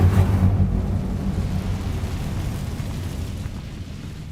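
Incendio fire spell cast in Hogwarts Legacy, a loud low rumbling whoosh that bursts at the start and then fades into a long deep roar with no talking.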